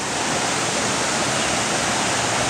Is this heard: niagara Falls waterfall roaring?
yes